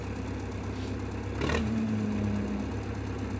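A tractor fitted with rear hitch implements runs at a steady idle close by, a continuous low mechanical hum with a tonal drone and no voices.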